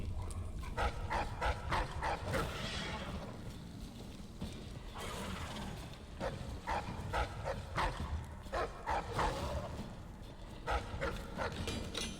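A dog in the stealth game Dishonored barks and yelps in repeated short bursts, fairly close, over a rumbling game ambience with pauses between volleys.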